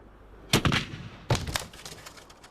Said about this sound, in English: With no surrender, there was only one course of action: to fire a broadside.